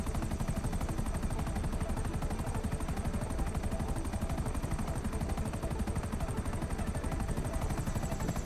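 A Grand Theft Auto V helicopter's rotor chops steadily and loudly for the whole stretch, a dense rhythmic thumping with a high whine on top.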